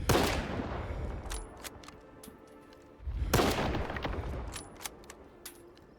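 Two heavy armor-piercing rifle shots from the video game S.T.A.L.K.E.R. 2 ring out a few seconds apart, each with a booming echo, followed by sharp mechanical clicks of reloading.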